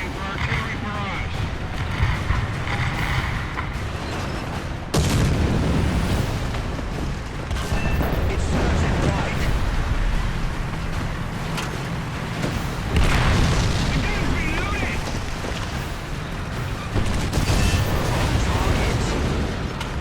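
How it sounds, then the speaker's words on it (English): An artillery barrage in the tank game War Thunder, during a realistic ground battle with a KV-1, makes a loud, continuous rolling rumble of heavy booms that swell and overlap for the whole stretch, with a voice faintly underneath. "The enemy is preparing for artillery barrage."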